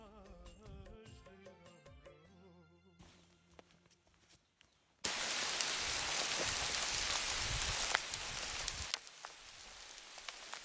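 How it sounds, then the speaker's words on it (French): A sudden burst of dense pattering begins partway through, like hailstones drumming hard on a surface, after a quieter opening with some tonal sounds. "Il grêle."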